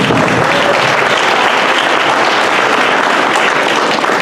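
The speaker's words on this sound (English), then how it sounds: "let's give a round of applause" An audience bursts into a steady, loud round of applause at a town bicentennial celebration in New Haven, Kentucky, the dense clapping continuing evenly from start to finish without talk.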